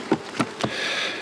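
Honey bees at a hive box during colony feeding and expansion, heard as close buzzing with a few short bursts as bees pass near, over a steady hum.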